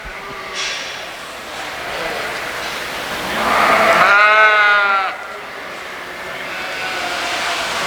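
Sheep bleating at a sheep show, a loud, drawn-out bleat near the middle set against a busy hall of crowd murmur and faint background noise.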